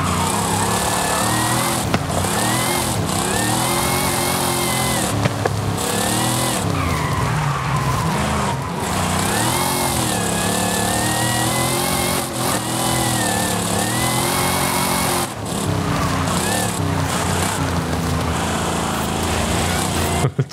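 A 1970 Dodge Charger with a 7.5-litre engine, the Fast and Furious X car, roars loudly and continuously in Forza Horizon, its pitch rising and falling through revs and gear changes, with tyre skids throughout and no talking over it.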